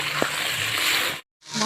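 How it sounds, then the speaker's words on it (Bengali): Fish coated in salt and turmeric frying in hot oil in a wok, a steady close hiss and crackle that cuts off abruptly, then resumes briefly. "বড় মাছগুলো আগে ভেজে নিচ্ছি,"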